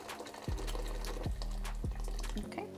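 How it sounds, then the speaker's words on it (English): Boiling water pours into a pot of soup, with a gurgling fill and a few low clunks recurring roughly every half second. "we're also gonna add an additional 4 cups of boiling water."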